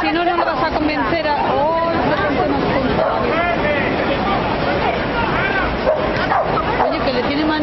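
A dog barks and yips repeatedly and excitedly, close by, over loud overlapping voices and commotion.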